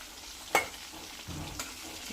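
KFC-style chicken leg pieces fry in a pan over a low flame, a soft, faint sizzle with a sharp scrape or stir near the start and quieter clatter later.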